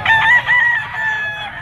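A two-year-old Gilmore Hatch green-legged gamecock rooster gives a single loud, close crow with a wavering drawn-out tail.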